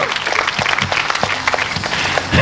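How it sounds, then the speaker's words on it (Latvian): Audience applause at an evening kokle music event in Līgo parks, steady dense clapping sustained throughout, moderately loud and close, with a few faint voices mixed in. "Aplausīs skaņu vīram!"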